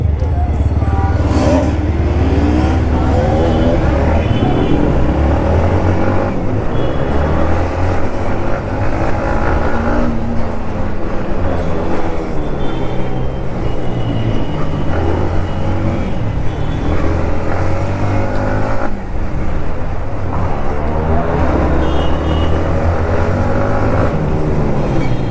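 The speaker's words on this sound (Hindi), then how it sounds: "मैं तो अपना बाइक ही चला रहा हूँ भाई" Motorcycles, a Yamaha R15M, MT-15 and Bajaj NS200, race down a street with loud, close engines droning and revving continuously, gears shifting and pitch rising and falling, with faint voices underneath.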